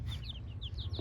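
Chicks of an Aseel rooster of the Sher-e-Punjab line chirp in a quick run of short, high peeps over a low, steady farmyard rumble.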